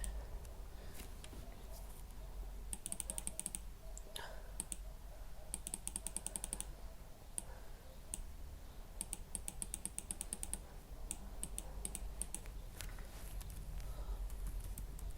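Computer keyboard typing comes in bursts of quick, crisp key clicks, separated by quieter pauses with light handling noise, close and fairly soft.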